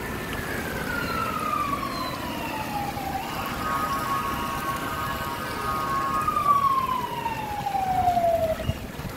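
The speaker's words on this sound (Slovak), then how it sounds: "Sanitka." An ambulance siren sounds at a moderate distance, its tone sweeping steadily and shifting pitch over a constant street and traffic background, with no speech.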